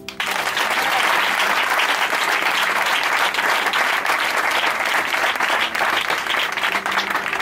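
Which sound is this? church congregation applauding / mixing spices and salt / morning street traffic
church congregation applauding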